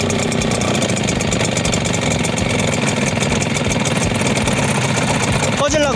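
A Kama HD-999 engine blower idles with a rough, close, steady putter before a sudden change at the very end as it stalls.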